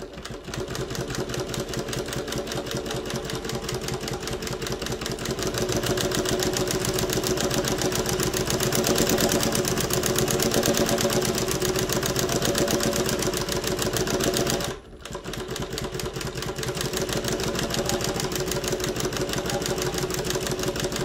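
A chainstitch embroidery machine sewing fill stitches on a patch runs as a loud, steady, rapid mechanical whir close by, pausing for a split second before resuming at the same pace.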